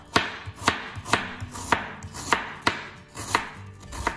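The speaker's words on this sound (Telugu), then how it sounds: "ఇలా సన్నగా పొడవుగా కట్ చేసుకోండి" Knife chopping vegetables into thin, long slices for Hyderabadi chicken dum biryani, about nine crisp, evenly spaced cuts against a board, close and clear with no talking.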